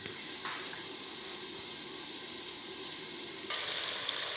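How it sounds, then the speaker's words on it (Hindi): Onions fry in a pan for beef black pepper rice, a soft continuous hiss and sizzle that steps up louder near the end, with no talking. "उसको थोड़ा वाइट करने के लिए, सफ़ेद करने के लिए हम प्याज को लाइट ब्राउन करेंगे।"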